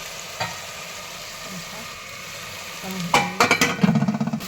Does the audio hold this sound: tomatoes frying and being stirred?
yes